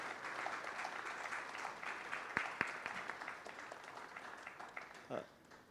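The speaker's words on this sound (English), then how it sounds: "they all deserve a big round of applause" Applause from a conference audience at a technical session, moderately faint and steady, with a few sharper claps standing out and a voice briefly heard over the clapping near the end.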